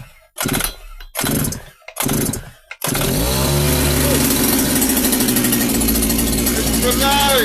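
A strimmer engine is cold-started with the choke on: three loud pull-cord rasps, then the small two-stroke engine catches and runs at a steady, loud, buzzing idle up close.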